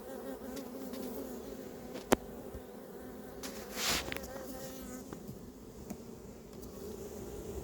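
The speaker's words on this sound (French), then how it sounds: "Je pense que les abeilles vont rentrer dans la ruche petit à petit." Honeybees from a collected package gather at the entrance of a new hive in Montgeron, giving a soft, steady outdoor hum of many wings with occasional louder buzzes as single bees pass close by.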